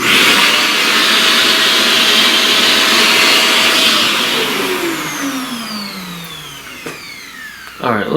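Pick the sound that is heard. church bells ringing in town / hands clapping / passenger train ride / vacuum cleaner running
vacuum cleaner running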